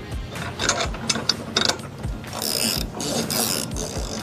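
Ratchet tightening a 10mm lock nut on a tailgate ladder, a fast run of close clicking strokes with low knocks and thuds, repeated in bursts throughout.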